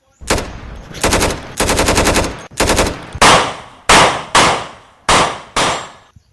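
Close, loud gunfire crackles in a rapid run of about nine short bursts, each a sharp volley of shots, separated by brief gaps.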